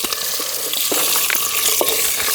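Eggs dropped into hot oil in a pan sizzle loudly and close, a dense crackling hiss with sharp spitting pops scattered through it.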